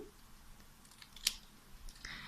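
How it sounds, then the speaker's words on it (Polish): Scissors snip off the ends of paper strips while a heart is being made, giving one sharp, crisp cut in a quiet room with faint handling noise around it. "Teraz przydadzą nam się nożyczki i nacinamy, właściwie ucinamy końcówki."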